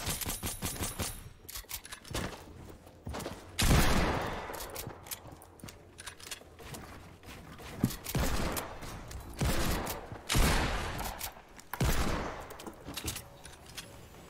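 Gunfire in the video game Fortnite comes in repeated loud bursts of rapid shots and single cracks, with mechanical clatter between volleys across the whole stretch.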